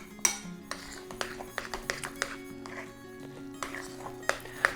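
A spoon scraping and clinking against a bowl while cottage cheese dough for sirniki protein pancakes is mixed, with irregular close taps and clinks over several seconds.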